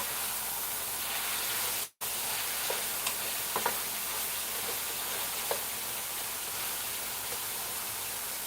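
Chicken tenderloins sauté in a pan with a constant hissing sizzle close by, broken once by a brief cut to silence, then a few light taps and crackles over the steady frying.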